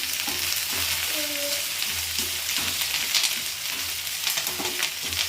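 Curry leaves spluttering in hot oil while cooking butter paneer masala, a steady hiss of frying with scattered pops and crackles and a few stirring scrapes, close and moderately loud.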